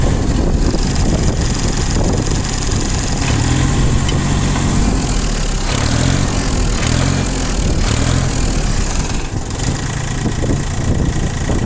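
An 18 hp ISEKI TU180 Japanese mini tractor, fitted with a rotary tiller, runs steadily with a loud, even engine drone and low rumble that holds without a break throughout, with no voices.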